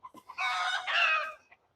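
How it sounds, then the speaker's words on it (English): Backyard garden chickens let out a short cluck or two, then a rooster crows loudly and close by in a strained, drawn-out call, followed by a brief final cluck. "I woke up the chicken chorus."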